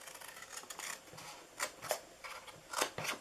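Scissors cut paper glue tabs for a Christmas triangle box, several short crisp snips and slicing strokes at irregular intervals, close and quiet, with no talking.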